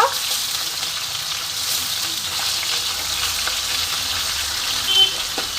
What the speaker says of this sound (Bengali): সব মাছটা উল্টে ভালো করে ভেজে নেব।